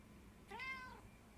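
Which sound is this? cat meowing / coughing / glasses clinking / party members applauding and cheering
cat meowing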